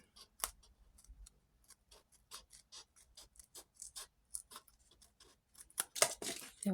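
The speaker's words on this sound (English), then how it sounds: "It's okay if you cut your tape." Tape is snipped with scissors for a Christmas table runner craft: a quick series of crisp, close cutting snips and soft rustles, ending in a louder crinkle of tape.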